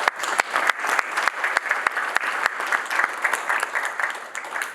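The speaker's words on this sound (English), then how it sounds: "And that deserves a round of applause" An audience at a Croydon Business Association event claps steadily for several seconds, a dense, even round of applause with no talk over it.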